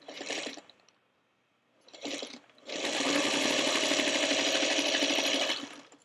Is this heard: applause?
no